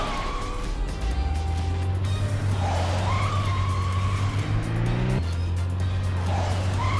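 Tires skid and squeal as a car drifts in the video game Shinsei Battaku Drive Girls, a steady engine drone running underneath with rising pitch sweeps, loud and continuous throughout.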